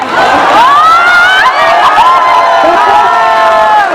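An audience at a JNU student union presidential debate clapping and cheering loudly for a speaker, a dense crowd roar with shouts and whoops lasting several seconds.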